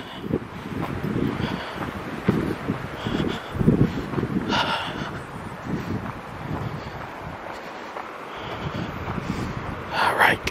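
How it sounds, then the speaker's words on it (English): Strong wind gusts roar steadily across an open pine barrens forest of pitch pines and Atlantic white cedar, with buffeting rumble and rustling on the microphone throughout. "Listen to that wind."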